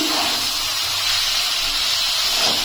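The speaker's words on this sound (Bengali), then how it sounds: "দু মিনিট আমি একটু ভেজে নেব।" Water lily stems frying in a pan give a loud, continuous sizzling hiss that holds steady throughout.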